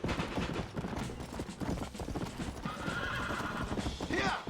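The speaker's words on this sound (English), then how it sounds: "this horse apparently did not like me spurring it that much" Horse in the video game Red Dead Redemption clip-clops along with steady hoofbeats, then gives a loud neigh and whinny near the end, with faint mechanical clicks.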